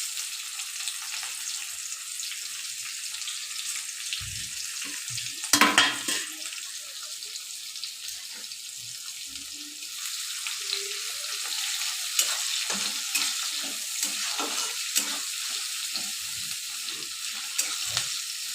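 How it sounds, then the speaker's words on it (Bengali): Chopped onions fry in hot oil for a Bengali crab curry, giving a steady bright sizzle with occasional stirring clatter and a brief louder burst as the pan is disturbed. "এবার এর মধ্যে কাটা পেঁয়াজগুলো দিয়ে ভালো করে ভেজে নেব।"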